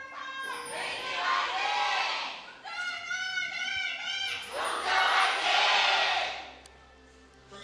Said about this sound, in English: Longzhu starting off with a louder cheer